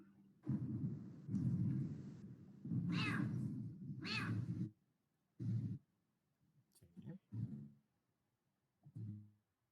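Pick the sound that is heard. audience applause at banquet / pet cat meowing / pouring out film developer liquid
pet cat meowing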